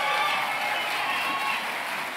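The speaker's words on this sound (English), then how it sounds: "I think Lori deserves a big round of applause" An audience at a governor's summit on disabilities applauding, a steady wash of many hands clapping that holds evenly throughout, with no voices over it.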